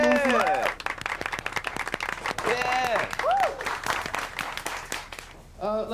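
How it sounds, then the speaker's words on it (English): A lively open-mic crowd claps in a burst of applause, with whoops and excited voices mixed in close by. "Let's have some sort of clapping."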